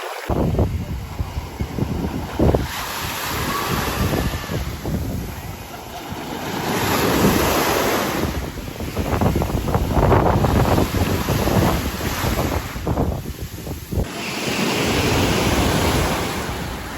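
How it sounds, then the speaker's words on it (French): Ocean waves roll and wash in continuously at an Italian seaside village, loud and close, with gusts of wind buffeting the microphone. "Il y a plus de vagues ici, hein."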